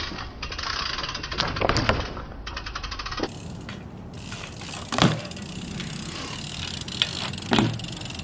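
A BMX bike performs a bunny hop bar spin, with sharp metallic clanks and tire thuds on landing spaced across the run, mixed with faint rolling and rattling outdoor noise.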